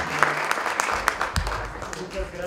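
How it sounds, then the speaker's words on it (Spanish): Applause for the panelists closing an education forum session, a short burst of scattered clapping from the audience with broadband patter, fading within a couple of seconds. "un aplauso más, por favor, para los panelistas y Marta que nos están acompañando"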